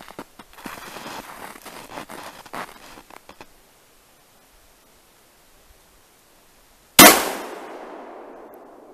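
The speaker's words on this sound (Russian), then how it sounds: "Я постараюсь к сосне прислониться, чтобы более произвести точный выстрел." A single sharp shotgun blast from an IZh-27E loaded with foam wads cracks out near the end after rustling and then near silence, followed by a fading outdoor echo in a pine forest.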